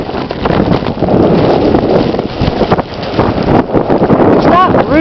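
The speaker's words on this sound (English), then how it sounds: "It's not really cold out, but still it's really blowing and there's whiteout" Strong wind blowing during a whiteout snowstorm roars and buffets loudly against the microphone for the whole stretch, with no pause or lull.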